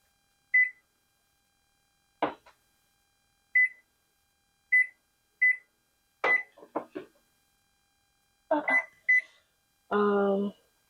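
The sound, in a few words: microwave oven timer buttons beeping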